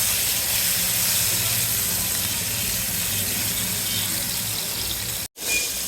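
Fish frying in hot oil in a home kitchen, a steady loud hiss and sizzle that runs continuously with a brief cut near the end.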